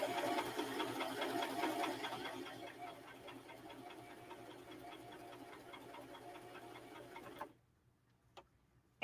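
A sewing machine back stitches through a sweatshirt, its rapid rhythmic needle ticking steady and close for about seven seconds before stopping, followed by a couple of faint clicks.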